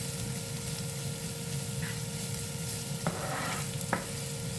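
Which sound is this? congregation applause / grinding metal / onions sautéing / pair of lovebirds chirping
onions sautéing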